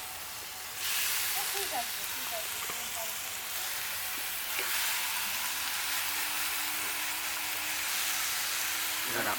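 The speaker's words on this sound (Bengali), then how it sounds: "এবার আমরা মাংস, ম্যারিনেট করা মাংসটা দিয়ে দেবো।" Marinated chicken for chicken kosa hits hot fried spices in a pan, bursting into a loud steady hiss and sizzle that holds on, with a faint tone and light clatter near the end.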